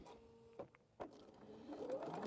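A sewing machine stitches quilt half-square triangles, with a few sharp clicks before its steady whirring motor gradually builds and swells toward the end.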